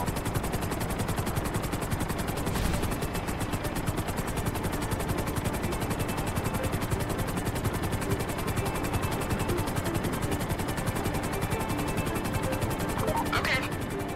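Helicopter flying in GTA Online, a constant rapid rotor chop with engine whine throughout, steady and close, with a character's voice speaking over it.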